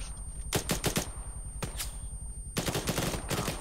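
Bursts of rifle and machine-gun fire in ARMA during a Gulf War assault on artillery sites, rapid clustered shots in short strings with a sustained volley near the end, fairly close and sharp.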